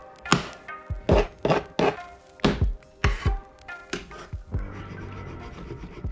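Small metal tools strike a prop weapon, knocking marks into it to fake wear, giving about a dozen sharp, close thunks in an uneven rhythm, followed by a softer steady hum.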